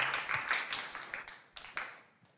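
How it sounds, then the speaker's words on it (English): A small audience at a women-in-tech event gives a round of applause after a presentation, scattered claps that are fairly faint and thin out toward the end. "Thank Gabia once again, a round of applause"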